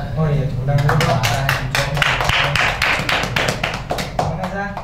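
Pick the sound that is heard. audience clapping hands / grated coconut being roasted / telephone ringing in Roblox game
audience clapping hands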